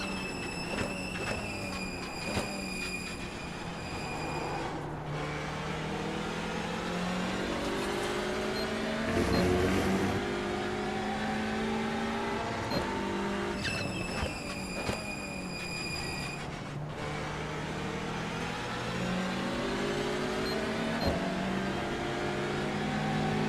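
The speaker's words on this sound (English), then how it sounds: "We are going to be dodging a lot of fast cars." Race cars at speed on the track at Daytona during the Roar Before the 24, heard from inside a TCR class car as a steady loud engine drone that rises and falls through shifts, with other cars passing close by.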